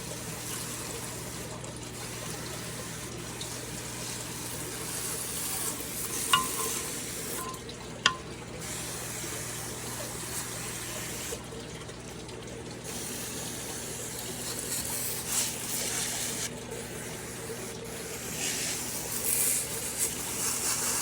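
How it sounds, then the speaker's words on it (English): Water pours and runs steadily as a tree frog enclosure is soaked down, a continuous hissing, splashing wash with a few brief knocks, close by under a low background hum. "give it a good soak down and let the water do its magic"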